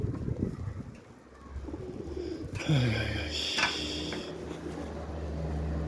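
A pigeon coos with low, soft, throaty calls, fairly close, over steady outdoor background noise with faint chirps.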